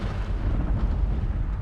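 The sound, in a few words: explosions in a video game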